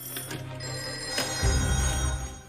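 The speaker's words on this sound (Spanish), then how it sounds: "El teléfono sonó y yo lo cogí." A telephone in a sheriff's office rings with a bright repeated electric bell, steady and fairly close, and a low hum joins partway through.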